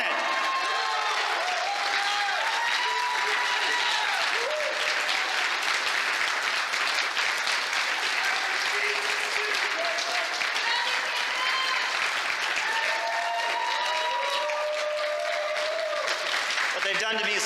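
An audience at a conference in Chicago claps steadily and densely throughout, a sustained wash of applause with cheers and voices threaded through it.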